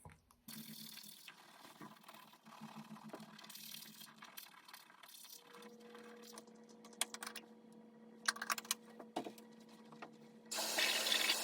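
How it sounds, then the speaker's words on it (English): Tap water runs steadily into a bathroom sink during teeth brushing, a close, continuous hiss with small clicks and clatters, growing louder near the end. "now it's time to brush my teeth"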